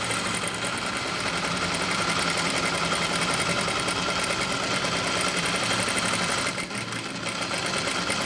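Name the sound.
sewing machine sewing basting stitches on light fabric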